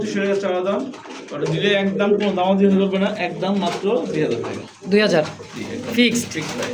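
Pigeons, a pair of blue-shaded fancy breed birds for sale, coo in repeated throaty rolling calls close by, mixed with someone talking over them throughout.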